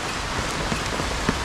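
Rain beginning to fall outdoors along a line of snake traps near banana plants, a steady soft patter of drops on surfaces with a few slightly louder nearby hits, no voices.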